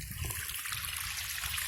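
Water trickles steadily through a sluice mat fitted with a restrictor while running prospecting concentrates, a constant soft splashing flow heard close and alone without voices.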